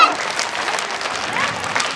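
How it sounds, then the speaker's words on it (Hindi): An audience at a school Republic Day cultural programme gives a short burst of energetic, dense clapping that lasts about two seconds and cuts off abruptly. "इसके लिए जोरदार ताली हो जाए"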